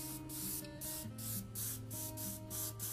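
Airbrush spraying acrylic paint in a steady hiss that pulses in short bursts about every half second, close and loud, with no voices.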